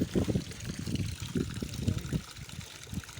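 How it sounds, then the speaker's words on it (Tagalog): Water flows and trickles at a tilapia fish pond, a soft, steady gurgling with low splashy pulses throughout, fairly close and moderately quiet, with no voices. "ang dami din ng tubig"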